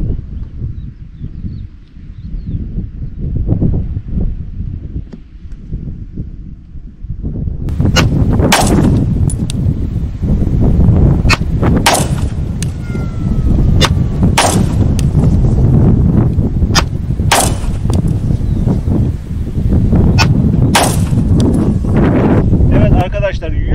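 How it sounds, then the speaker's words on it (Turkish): Walther P99 pistol shots fired at a target 150 metres away on an outdoor range, several sharp loud cracks spaced irregularly over steady wind noise, with people talking in the background. "Şimdi yeşil kovanın 50 metre daha ilerisinde 150 metre mavi bidonumuza atış yapacağız. 5 atışta ona yapacağız."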